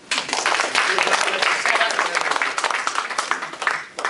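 A crowd applauds steadily at a Nepali community candidacy announcement, with dense clapping that starts quickly and stays loud and even for about four seconds.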